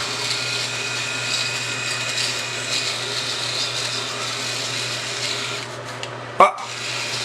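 A Flyco FS306US electric shaver hums steadily with a buzzy motor drone as it shaves. The sound is close and continuous, then a sharp click or knock is heard near the end.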